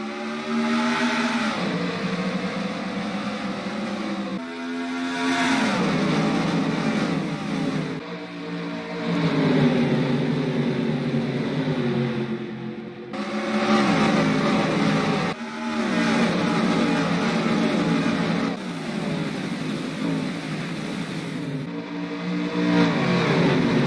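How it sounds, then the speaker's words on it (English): NASCAR stock cars racing up Pikes Peak, their engines roaring loudly and continuously with repeated rising revs as the cars accelerate through gears, no voices over the engine noise. "for the first time since 2005, NASCAR is racing at Pikes Peak."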